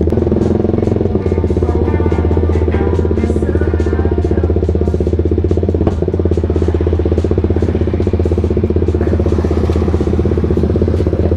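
A Kawasaki Ninja motorcycle with a 280 bore-up engine on a night ride, its loud, raspy exhaust blaring continuously and very close, with a rapid, buzzing pulse throughout.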